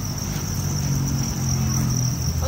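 Crickets in a flat wooden rearing box lined with longan leaves chirp in a dense, continuous, even shrill drone, close and steady with no voices.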